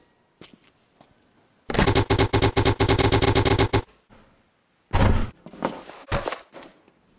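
Heavy weapon minigun cutting loose in a YouTube Poop edit: a long, loud, rapid burst of close, rattling fire, then a brief gap and a second shorter burst with a few scattered thuds around it.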